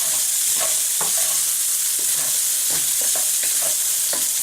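Vegetable fried rice stir-fries with sesame oil under a loud constant sizzle, with scattered scraping and tapping from stirring throughout.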